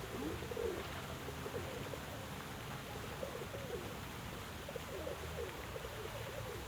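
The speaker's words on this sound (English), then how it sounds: "Wrong gray pigeon, yellow feet." Pigeons cooing in the video game Nancy Drew: The Phantom of Venice: repeated soft, throaty coos in a gentle rolling rhythm over a steady wash of ambient water and city noise, faint and without speech.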